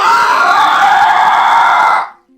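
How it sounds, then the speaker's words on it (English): Screams and screeching burst out through an opened door in a tabletop vampire role-play session, a loud, sustained shrill wail for about two seconds that cuts off abruptly. "You hear a door open, and you just hear screams and screeching."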